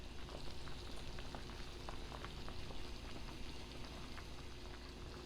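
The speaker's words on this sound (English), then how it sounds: "here's the boil we're looking for" A pot of Grenadian oil down stew reaches a steady, rolling boil, with dense bubbling and popping that stays even and continuous and sounds close by.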